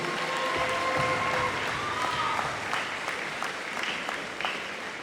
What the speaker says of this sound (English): So please, everyone, a huge round of applause for Mr.